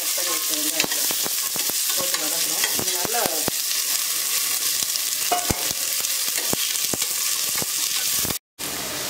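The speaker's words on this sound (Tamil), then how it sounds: "வெங்காயம் நல்லா வதங்கி கோல்டன் கலருக்கு வரணும், வதங்குவோம்." Onions sizzle loudly in a hot pan while a spoon scrapes and stirs them, frying until golden. The frying is close and steady, with a brief break near the end.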